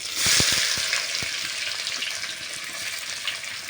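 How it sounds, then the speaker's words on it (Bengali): Chopped onion dropped into hot oil in a frying pan for a spicy semolina dish, a loud, steady hiss of sizzling after a few brief clatters at the start. "এখন দিয়ে দেবো এর মধ্যে পেঁয়াজ কুচি"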